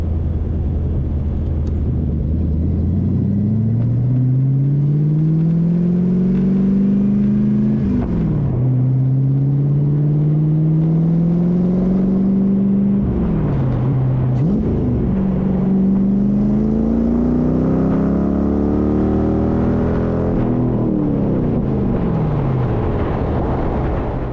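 A home-built Shelby Cobra with a Mustang drivetrain accelerates hard through several gear changes, each pull rising in pitch before dropping back at the shift, loud and close from inside the car with no talking.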